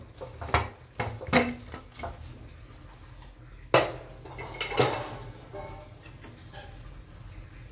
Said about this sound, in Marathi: आता आपण झाकण काढून घेऊ.